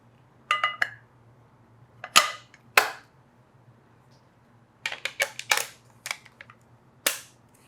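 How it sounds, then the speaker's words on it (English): An F.lli Rizzini R2E shotgun being put back together gives crisp metallic clicks and snaps, single sharp ones spaced apart, then a denser cluster of clacks near the end, close and loud over a faint hum. "Let me reassemble the gun."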